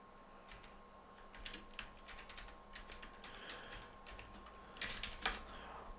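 Quiet, brisk typing on a computer keyboard while writing JavaScript code, uneven bursts of soft key clicks with short pauses, close and low in level, no speech.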